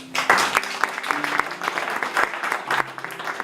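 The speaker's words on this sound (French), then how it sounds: "On peut t'applaudir." A small group applauds indoors in France after a talk about the Resistance, with distinct individual claps in an uneven, fairly close patter that stays moderately loud.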